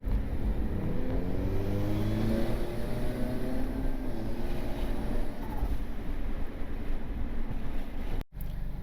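Turbocharged 9th-generation Honda Civic engine warming up, a steady close idle drone with a low hum, briefly cutting out near the end.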